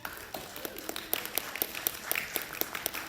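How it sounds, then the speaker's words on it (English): An audience applauding panelists at a high school writers' conference; a dense, steady round of clapping from many hands, fairly close, lasting throughout without talking. "Let's have a round of applause for the panelists."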